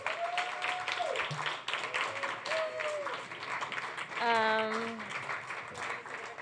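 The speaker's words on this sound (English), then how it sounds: "just give them a round of applause" An audience at a queer memoir storytelling night gives a modest, fairly quiet round of applause, scattered claps mixed with cheering whoops and voices.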